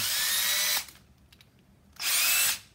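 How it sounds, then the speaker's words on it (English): A power drill fitted with a 1/8 inch bit whines loudly in two short bursts close up, separated by about a second of quiet with a few faint clicks. "Switch to my 1/8 drill, and then I'll just"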